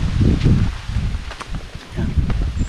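Wind gusts through leaves outdoors, making a steady, fairly loud rustling roar with no one speaking.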